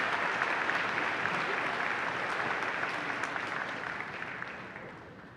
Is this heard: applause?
yes